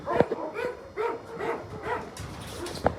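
Shelter dogs at feeding time while they are served porridge with meat: a rapid string of sharp, close barks and yips repeats about every half second, ending in a last high yelp.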